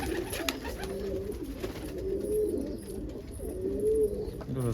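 A pigeon coos softly in a repeated, rolling pattern of low throaty calls, fairly close, over faint background noise.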